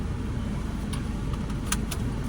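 A car engine idles steadily after being started, a continuous low rumble filling the whole clip, with a couple of brief higher clicks or jingles near the end.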